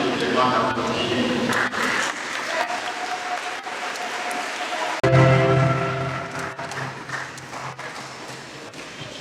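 A church congregation at a Mass applauds a school choir, a dense sustained clapping that swells after a brief dip and continues steadily, with a voice speaking over it.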